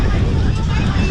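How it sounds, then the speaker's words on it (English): Strong wind buffets the microphone on the dock beside the cruise ship on Castaway Cay on an overcast day, giving a loud continuous rumble with faint background murmur. "It's always like a wind tunnel right here."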